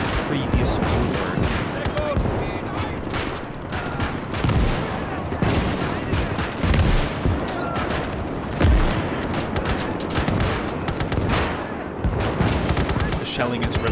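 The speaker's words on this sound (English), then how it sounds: "The shelling is relentless." Nonstop artillery shelling and rattling gunfire in a World War I battle game with German troops and French FT-17 tanks attacking Russian trenches, dense overlapping booms and bursts of shots, with a voice talking over the din at times.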